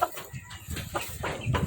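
Chickens in a backyard coop give short clucks and calls, fairly faint and close, with scratching and rustling in between.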